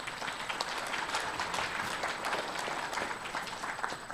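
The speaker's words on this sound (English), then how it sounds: "So give yourselves a round of applause" Audience at a gun rights policy conference claps, a fairly quiet, steady patter of many hands heard from a distance in a conference hall.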